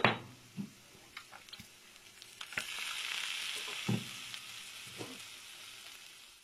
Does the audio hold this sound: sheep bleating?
no